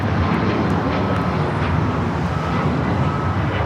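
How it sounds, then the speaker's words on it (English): An ITA Airways Airbus A350-900 arriving at Los Angeles airport from Rome roars steadily as it passes, a loud, continuous broadband jet engine rumble with wind noise and no talking. "Flight 620 coming in from Rome, Italy on the A350-900."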